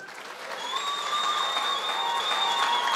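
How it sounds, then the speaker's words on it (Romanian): Wedding guests applaud during the newlyweds' dance, steady crowd clapping with some cheering under sustained high tones from the music or a held note. "Aplauze mai furtunoase, vă rog frumos, da?"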